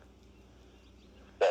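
A friendly dog wandering onto a roadside flagging work site gives one short, sharp bark near the end, after a stretch of quiet low background rumble.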